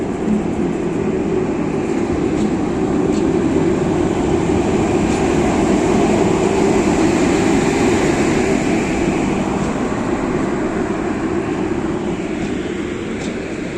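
A passenger train departing Prayagraj Rambagh railway station, a loud, steady rumble and rolling clatter of wheels on track that holds close and constant throughout, with no voices.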